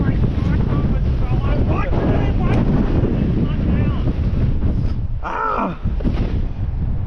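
Strong wind roars across an open frozen lake during ice fishing, buffeting the microphone in loud, continuous gusts, with a brief dip and then renewed blasts; faint voice sounds come through under the gusts.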